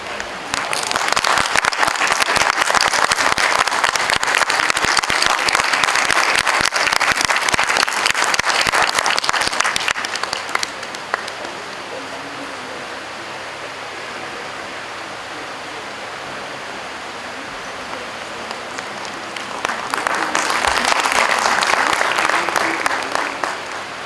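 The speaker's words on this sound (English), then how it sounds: "These applause should not stop." An audience claps loudly for about ten seconds, the sound fades to a quiet murmur, then a second strong wave of applause rises near the end.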